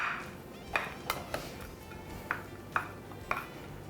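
A utensil stirs sushi rice with rice vinegar in a bowl, leaving a quiet scraping bed broken by about six sharp clinks against the bowl's side.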